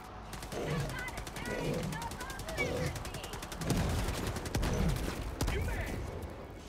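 Rapid automatic gunfire in Helldivers 2 rattles in steady bursts at moderate loudness, mixed with game effects while players talk over it.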